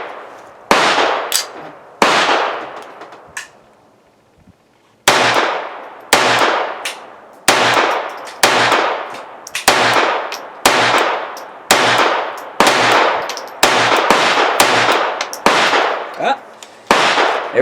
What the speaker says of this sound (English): I'm going to be shooting, it's got 10 round magazines, and I loaded them up with the PCI ammo, so we'll see how those shoot.